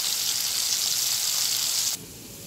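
Raw chickpeas fry lightly in hot oil while banana flower curry is cooked, giving a steady close hiss that drops off sharply near the end to a fainter sizzle.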